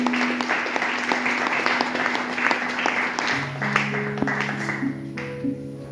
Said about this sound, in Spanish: Denle una fuerte ofrenda de palmas al Señor.